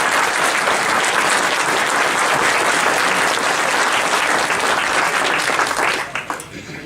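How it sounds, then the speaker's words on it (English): A dinner audience applauds the wait staff at a Republican event in Meriden, loud dense clapping that fills nearly seven seconds before thinning out at the end. "Can we give them a round of applause, please?"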